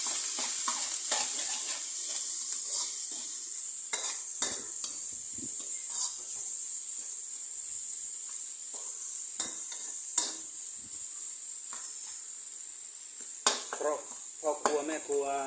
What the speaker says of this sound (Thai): แล้วเราก็คั่วให้เข้ากันนะครับ